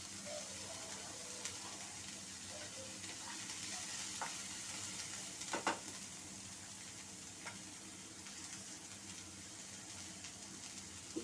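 Green, yellow and red capsicum with button mushrooms being stirred in a hot pan give off a soft, steady sizzle, with occasional light clicks of a utensil against the pan and no talking.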